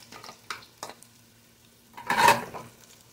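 Onions going into a pan, heard as a few short clinks and stirring scrapes followed by a brief louder burst of sizzling, all fairly quiet with gaps between sounds.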